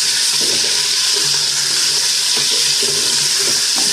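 Ingredients for mutton korma fry in a pan, a steady bright sizzle with soft intermittent stirring scrapes and small bubbling pops close by, no talk.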